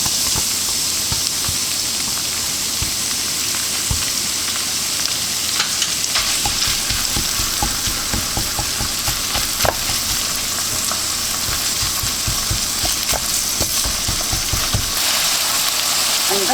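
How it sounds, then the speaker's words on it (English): Minced beef frying with garlic and ginger in a hot pan, a steady loud sizzle running throughout with repeated sharp clacks of a utensil stirring and scraping, no voices. "Add the garlic and ginger. Add the minced beef here."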